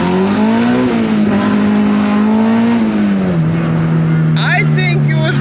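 A Honda Civic EK hatchback with a K20Z3 engine pulls hard, its loud rising engine note climbing and shifting down as it accelerates away, with tire noise and faint voices near the end.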